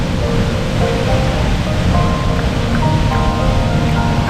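A loud, steady roar of rushing falling water from Awosting Falls fills the whole stretch, broadband and constant like a nearby waterfall.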